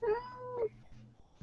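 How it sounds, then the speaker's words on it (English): A cat meows a few times close by, short rising and falling cries in a quiet room. "I'm hearing a cat"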